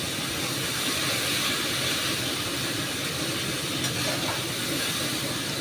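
Onion and garlic frying in a pan with a little water and spices for an old-style flat bean dish, a constant broadband hiss and sizzle held at an even level with no talking.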